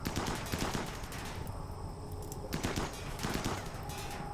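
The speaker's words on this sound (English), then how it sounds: "So you guys carry on shooting this thing." Rapid bursts of gunfire from colonists shooting in the RimWorld video game, loud and dense at the start, easing briefly, then returning in repeated volleys.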